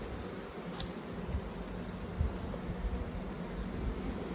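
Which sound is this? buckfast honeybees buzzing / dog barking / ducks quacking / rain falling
buckfast honeybees buzzing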